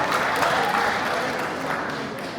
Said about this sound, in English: Can we clap please?